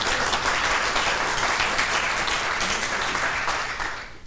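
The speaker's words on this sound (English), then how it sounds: "let's give them a round of applause" An audience at a speaker-series event claps in a dense, sustained round of applause that holds steady for several seconds and then fades at the end, with no speech over it.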